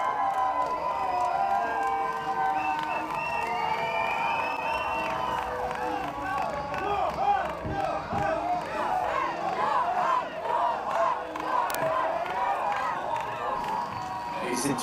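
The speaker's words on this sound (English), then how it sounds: "Big love from the crowds here." A crowd cheers and shouts for Yoann Richomme, runner-up, arriving at the 2024 Vendée Globe sailing race finish, a dense, continuous roar with whistles and yells and talk mixed in throughout.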